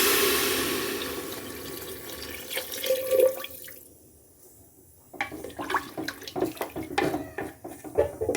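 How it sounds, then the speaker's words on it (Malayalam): Water is poured into a pressure cooker holding rice for ghee rice. A continuous splashing pour runs for several seconds, stops briefly, then gives way to intermittent sloshes and drips. "ആ വെള്ളം ഇതിലോട്ട് ഒഴിക്കുക."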